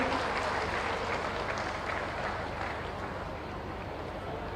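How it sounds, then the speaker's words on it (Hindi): Applause from a large crowd at an outdoor public ceremony for development projects, steady dense clapping heard from a middle distance that fades slightly toward the end. "तालियां भी 2 से अनुपात में बजाइए।"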